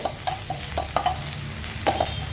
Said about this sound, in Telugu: ఇప్పుడు ఇందులో మనం వేగించి పెట్టుకున్న ఎగ్ని వేసుకుందాము.